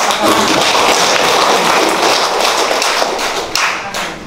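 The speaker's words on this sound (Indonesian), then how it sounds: "Kita tepuk tangan dulu." Audience applause at a formal government competency assessment results ceremony, a dense continuous wash of many hands clapping for about four seconds, loud and steady, thinning slightly toward the end.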